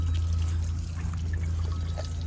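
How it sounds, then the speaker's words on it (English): Water runs continuously into an overfilling 1972 Kohler Wellworth toilet tank, a steady close trickle and pour over a low hum, with no speech. "Oh, the tank is overfilling."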